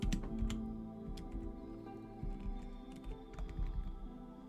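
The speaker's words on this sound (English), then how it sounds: "I'm going to go ahead and type in my name." A computer keyboard clatters as someone types in a character name, with quick, uneven key taps running steadily over a low background hum of game music.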